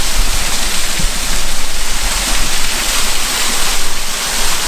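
A waterfall at Routin Lynn roars in a steady, loud, broadband rush of falling water close by, with no talking over it.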